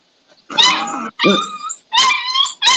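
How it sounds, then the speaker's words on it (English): Puppies yip and whimper in four close, loud bursts of high-pitched, wavering cries separated by brief silences. "That's the puppies."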